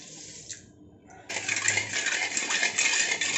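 A bowl of water is poured into two bowls of sugar in a pan for motichoor modak syrup, starting with a small clink and then a steady, close, continuous pour.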